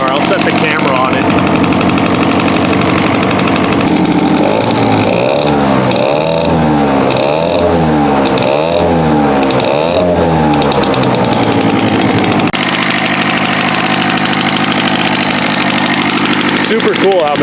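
A Peugeot 103 70cc moped engine runs close by, a steady rough buzzing idle with a pulsing, wavering note in the middle section before returning to an even drone.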